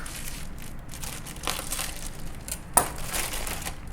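Plastic packaging around A5 wagyu beef crinkles and rustles softly up close, with scattered crackles and one sharper snap partway through.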